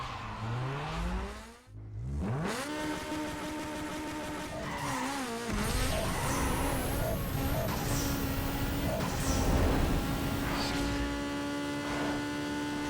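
An Audi TT V6 3.2L Quattro in Need For Speed Underground 2 on a drag test run: the engine winds up through rising gear pulls with brief dips at each shift, then holds a loud, sustained high-revving drone.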